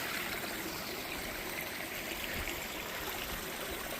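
A small creek with brook trout flows in a steady, even rush of water, close and continuous, with no voices.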